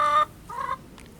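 Backyard chickens saved from a flood give a couple of short clucking bursts, close and clear, with a brief pause between them and faint rustling at the end.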